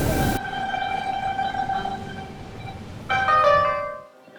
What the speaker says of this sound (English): The train stopped by the side of an unmarked road in the Idaho desert, released its passengers miles from any station.